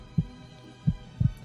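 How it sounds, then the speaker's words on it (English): A heartbeat thumps low and close, three dull beats with the last landing as a quick double pulse over a faint hum. "I heard a heartbeat again"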